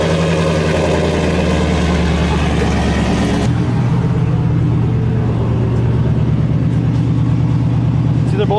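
A Chevy Silverado pickup engine running steadily with a deep continuous drone that shifts lower partway through while the wheels spin, near and loud, with people talking faintly in the background.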